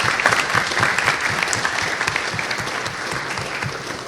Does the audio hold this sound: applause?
yes